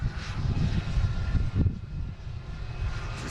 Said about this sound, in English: So we should have this JetBlue taking off any second now.